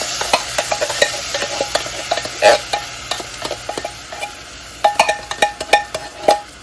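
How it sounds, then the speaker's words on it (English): Canned black beans tipped into a pot on a stove, giving a series of wet clinks, scrapes and soft thuds against the metal with a faint sizzle underneath, irregular and close, ending in a busier burst of clatter. "We're just gonna go ahead and dump in that can of black beans."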